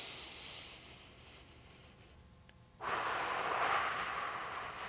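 Heavy breathing during a diaphragm core exercise, a long airy exhale that fades, then a louder, rushing breath partway through, close and with no talk.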